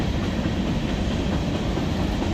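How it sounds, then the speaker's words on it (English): A train rolls past with a steady, broad rumble and rhythmic clatter of wheels on track, loud and continuous throughout. "Good train going by."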